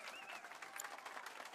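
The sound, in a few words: applause for pianist, from video game Final Fantasy VII Rebirth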